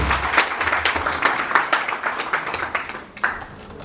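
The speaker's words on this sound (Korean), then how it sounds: "네, 뜨거운 박수를 보내주시기 바랍니다." Warm applause from an audience at a Korean business leaders' conference welcomes a speaker to the stage. The clapping is dense and steady for about four seconds with no talking over it, then eases slightly near the end.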